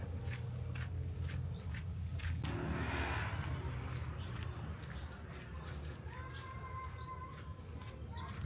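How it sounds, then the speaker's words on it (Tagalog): Many small birds chirp in short, scattered calls over a steady background rumble on Siquijor Island, Philippines, some calls nearer and brighter, others faint. "Daming ibon, oh."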